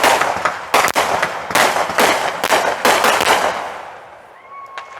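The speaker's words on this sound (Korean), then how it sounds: "지금 하늘에 폭죽들이 예쁘게 터지고 있어요." Rapid bursts of Independence Day fireworks in the United States crackle and pop in dense succession, loud and close, then fade to a quieter tail with a faint whistling streak at the end.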